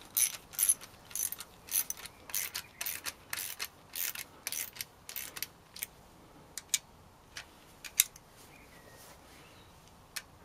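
Ratchet clicking in short bursts as bolts are tightened on a Honda Denso alternator during a bearing change, the rapid clicks loud at first and thinning to sparse, isolated ticks toward the end, with no voices.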